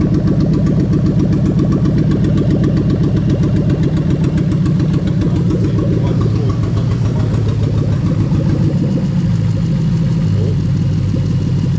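A car engine idling loud and close after a plug-and-play automatic transmission swap, a steady throbbing rumble throughout, with a voice speaking over it.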